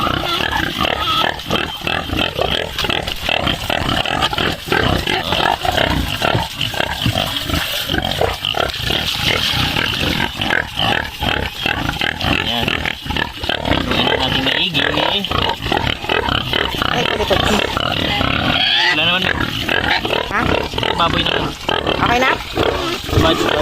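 Many pigs grunt and squeal loudly and close by, nonstop and overlapping, on a farm at feeding time, with voices talking now and then in the background.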